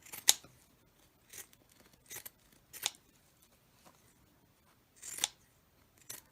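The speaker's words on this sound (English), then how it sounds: "I'll cut right across the middle." Pinking shears snip through scrap fabric in a few separate crisp cuts, spaced about a second apart, close and clear against a quiet background.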